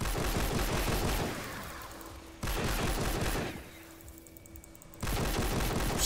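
Rapid bursts of gunfire from a player shooting through a bush in Fortnite Save the World, loud volleys stopping twice for short quieter stretches.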